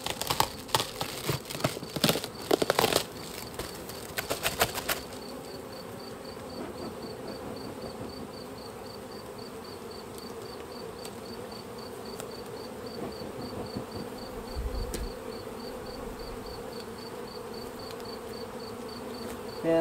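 Honey bees hum steadily in a dense, continuous drone inside a hive, close by, after several seconds of sharp crackling and tapping at the start.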